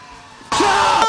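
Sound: a person screaming when scared

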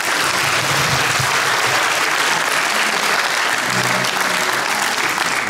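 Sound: audience applause

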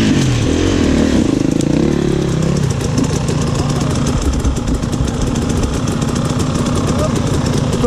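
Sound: motorcycle engine

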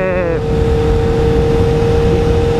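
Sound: Honda CBR 1000RR Fireblade motorcycle engine running

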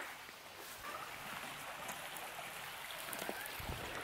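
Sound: river flowing

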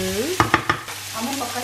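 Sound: beef frying in a pan for beef stroganoff

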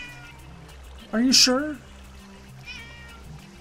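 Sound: cat meowing

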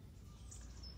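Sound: birds chirping outdoors

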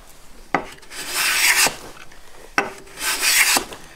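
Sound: Woodriver block plane cutting chamfer in eastern maple end grain

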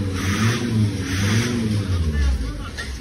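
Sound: Tofaş car engine revving during break-in

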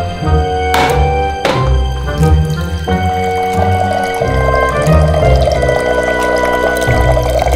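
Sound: water being poured

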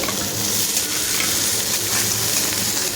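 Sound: frying until golden brown in a pan

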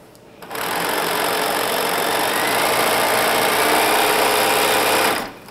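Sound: sewing machine back stitching a pant hem

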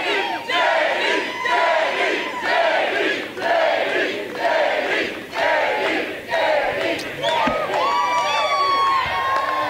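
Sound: campaign rally crowd cheering

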